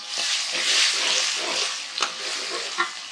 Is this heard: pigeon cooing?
no